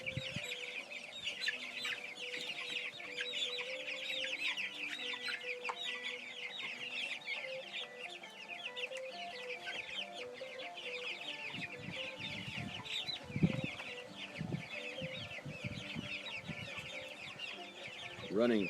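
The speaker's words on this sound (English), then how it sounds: "There's a chicken there." About fifty chickens cluck and chirp continuously in a busy, overlapping chorus at moderate distance, with a few louder close clucks and brief low talk near the end.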